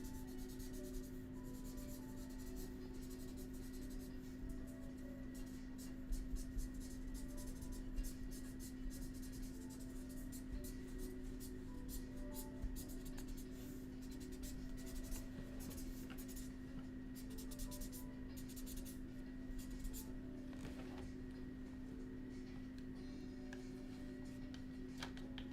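Steady scratchy rubbing of colored pencil shading on paper, a soft continuous texture with small strokes over a constant low hum, close and quiet, no talk.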